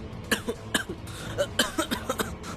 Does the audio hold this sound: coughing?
yes